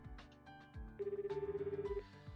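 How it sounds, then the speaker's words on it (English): A phone rings while calling home in the visual novel 9-nine-: a steady electronic tone pulses in a rapid warble for about a second, set against soft background music with faint low thumps. "Pick up my phone with my left hand and call home."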